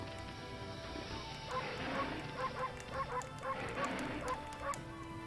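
A dog in the Okami video game barks in a rhythmic run of short, yelping barks over steady game background sound, loud and close.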